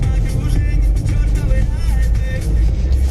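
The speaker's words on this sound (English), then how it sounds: "now I'm just driving to the gym" Steady low road rumble and engine drone from inside a moving car on the way to the gym, continuous and fairly loud throughout with no clear talking.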